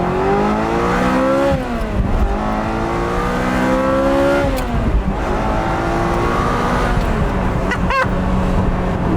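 A 1995 Ferrari F355 Spider's engine revs hard while driving, its loud high-pitched wail climbing and dropping through several gear changes with a sharp crackle near the end.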